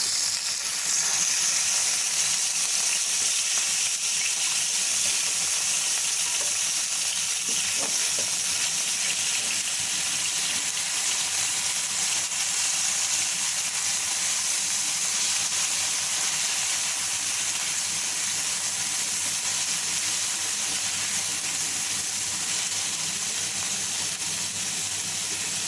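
A spoonful of fresh garlic-ginger paste frying in a pan for chicken manchurian, giving a loud, dense, continuous sizzle that holds steady for the whole stretch with no voices over it.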